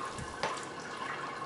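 Sparge water poured over a mesh basket of malted grain in a Robobrew V3 brewing system, a steady close splashing trickle with no talk.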